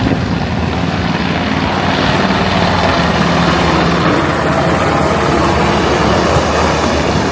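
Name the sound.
helicopter flying over sailing ship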